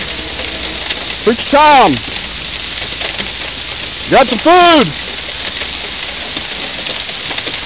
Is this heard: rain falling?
yes